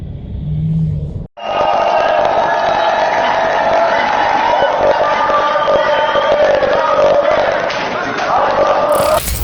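Protesters fill the inside of an airport terminal with a loud, continuous roar of shouting and crowd noise that runs almost unbroken throughout, dense and close.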